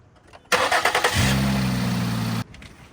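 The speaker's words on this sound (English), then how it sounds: "go turn the car on for like 30 seconds" A car engine cranks briefly and then catches, settling into a steady, loud idle right after an oil change, with no talking over it.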